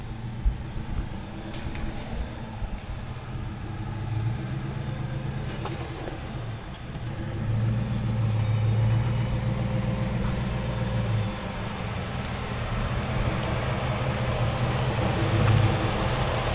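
An off-road vehicle creeps slowly downhill on a rocky, rutted trail, its engine a steady low rumble with faint crunching and rattles throughout, no voices.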